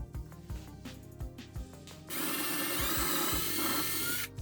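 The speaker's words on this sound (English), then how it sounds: "Now I'm going to use a 2mm pilot drill." Tapping and scraping on wood, then a close power drill with a 2 mm bit whirs steadily for about two seconds, drilling a pilot hole, before stopping.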